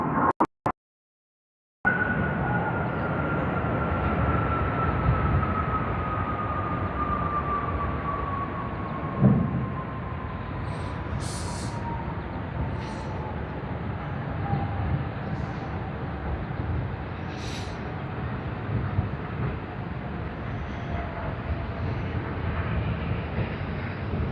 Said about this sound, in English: That's the Singapore to Sydney service on Qantas QF82.